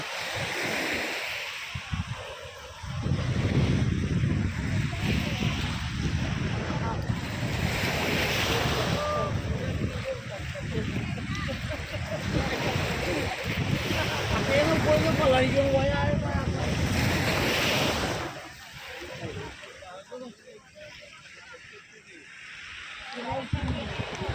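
Rough sea waves roar at Tapur beach, a loud continuous wash of surf with wind buffeting the microphone, swelling and easing, with a brief lull near the end.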